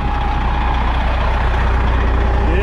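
A Series 60 diesel engine in a Newell motorcoach runs with a steady, loud, continuous rumble and a faint high whine over it, unbroken for the whole stretch.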